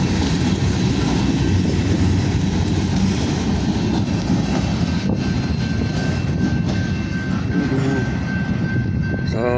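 An unloaded freight train of empty grain cars rolls past close by, a loud continuous rumble with rattling wheels and faint clickety-clack, a thin squeal rising near the end as the last cars go by.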